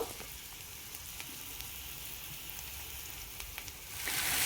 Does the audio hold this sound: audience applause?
no